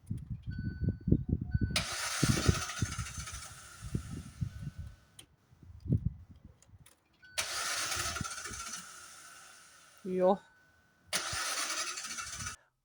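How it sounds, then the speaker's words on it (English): A Hyundai i20 engine cranks over and over without catching: three long whirring starter bursts separated by pauses. Loud low thumps and a brief voice come at the start, and a short rising whine falls between the later cranks. "Car won't start."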